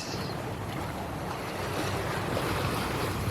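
A sailboat moving through waves at about 5 knots, broad steady rush of water and surf against the hull mixed with wind buffeting the microphone, continuous and fairly loud.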